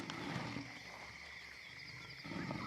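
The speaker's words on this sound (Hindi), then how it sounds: "वो मायूस होकर फिर दहाड़ने लगता है।" A wild lion roars, a continuous, fairly loud call that holds steady throughout, set outdoors in nature with no talking.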